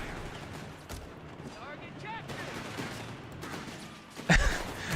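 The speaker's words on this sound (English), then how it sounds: "first shots have been now fired over here" Scattered small-arms fire crackles in Company of Heroes 3, a WWII strategy game, with occasional distant shots and a sharper burst near the end, all under a commentator's continuous talk.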